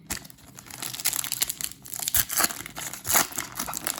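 A Wixoss trading card booster pack wrapper being torn open and crinkled: continuous close crackling and crumpling with sharper tearing bursts, fairly loud and alone.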